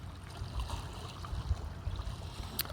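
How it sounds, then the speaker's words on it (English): Lake waves wash gently against the shore, a soft continuous low sloshing and lapping with small surges, fairly close and steady, with no voices. "You can see the waves and hear the waves."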